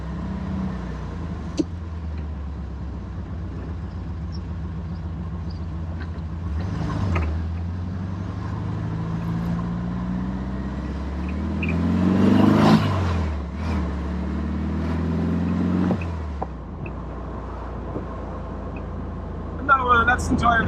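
A Porsche 356 Speedster, the first production Porsche, heard from inside while driving: a steady low engine drone with gear changes and a rising rev around the middle, plus occasional clunks and talk over it.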